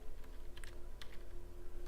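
Fingers tap quickly on a computer keyboard, soft uneven clicks in short bursts over steady background hum.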